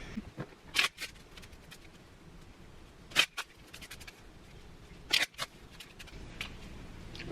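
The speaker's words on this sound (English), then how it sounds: "I'm going to shuffle these up and draw 5" A deck of 52 playing cards is shuffled, giving three short, crisp riffling bursts spaced a couple of seconds apart over quiet room noise, with no talking.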